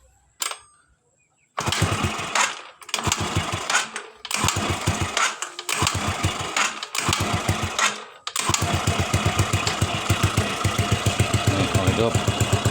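A motorcycle engine with a fault where it dies when throttled is started up, catching after a few short cranking bursts and then running steadily with a loud, rapid putter close by.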